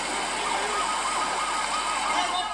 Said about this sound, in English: With sirens blaring, Goodnow steers the 41 to the barge.